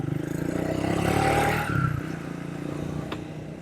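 A Triumph Speed 400 motorcycle engine runs steadily with a low, throbbing drone that swells briefly, as if revving, then settles. It sounds close and loud, with wind and road noise mixed in.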